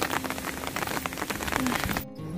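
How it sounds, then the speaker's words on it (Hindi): Rain falls steadily on a surface outdoors, a dense close patter of drops that continues evenly for about two seconds before a brief break, then quieter rain resumes. "फिलहाल बारिश स्टार्ट हो गई"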